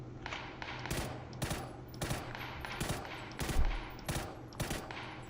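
Rapid bursts of video game gunfire, with repeated sharp shots fired in quick fusillades throughout, loud and close, as a player comes under fire in an online shooter.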